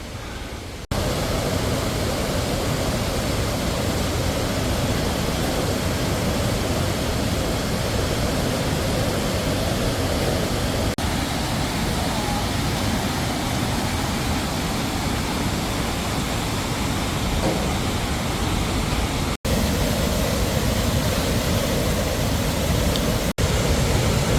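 Dumun Falls in a Seoraksan mountain valley pours in a dense, steady roar of falling water, loud and unbroken for the whole stretch.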